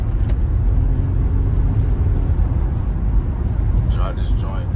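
A used car is driven on a test drive: low engine and road rumble hold steady throughout, with a brief squeak near the end.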